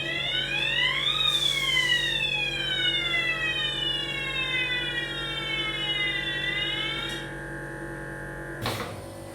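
A wailing siren rises and falls repeatedly, loud and steady, its tone sweeping up and down with a brief clunk near the end.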